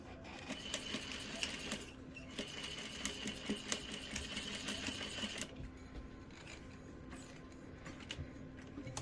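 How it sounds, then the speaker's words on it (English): A sewing machine runs steadily while stitching a doll skirt seam closed, its fast needle chatter continuous and close, pausing briefly near the midpoint before resuming more softly. "I'm going to stitch that back closed again."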